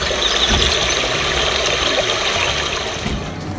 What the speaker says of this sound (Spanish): Musicalizador con sonido de agua y pajaritos